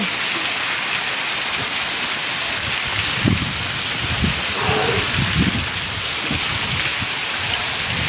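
Heavy rain pours down steadily in a dense, even hiss, with a few soft low thuds scattered through the downpour.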